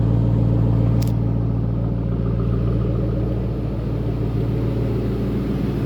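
A supercharged 4.6-liter engine in a 2008 Ford Mustang Roush 427R idles with a steady, deep, low rumble, close by and continuous, with no voices over it.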